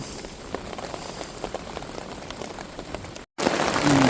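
Heavy rain pounds steadily on a surface close by, a dense, loud hiss of drops with no talking; after a very short break near the end it comes back even louder.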